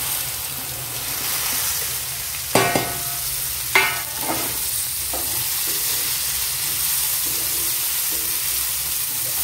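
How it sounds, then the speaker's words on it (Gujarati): Okra dropped into a hot pan for a Gujarati bhinda tameta shaak, giving steady loud sizzling with two sharp clattering impacts of the vegetables and spoon early on, then continuous frying and stirring with no talk. "હવે ભીંડા નાખીશું"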